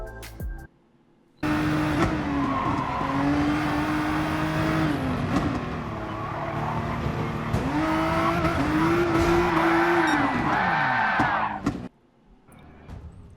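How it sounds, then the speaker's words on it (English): Nissan GT-R race car in Gran Turismo Sport at Suzuka, loud and close, with engine pitch climbing and dropping through gear shifts and corners, tire squeal mixed in, running steadily for about ten seconds with no talk. "So let's jump into the Nissan GTR and see how we go."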